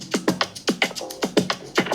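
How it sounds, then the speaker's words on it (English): A kick drum sits inside a layered Fuji-flavoured Afrobeat percussion loop for a song, with punchy hits repeating in a tight, bouncing rhythm over about two seconds and no voices. "Brought in the kick"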